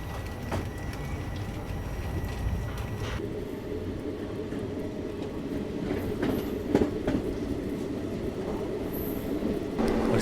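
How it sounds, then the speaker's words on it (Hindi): A train, likely the Magadh Express, rolls past on Indian railway track, a loud steady rumble of wheels with occasional clanks and faint squeals. "सामने जो ट्रेन आ रही है ये मेरे ख्याल से मगध एक्सप्रेस जो है वो होने वाली है।"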